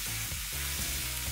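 Gochugaru pepper and soy sauce mixture sizzles steadily in a frying pan, close and constant, with faint stirring rhythm and no voices.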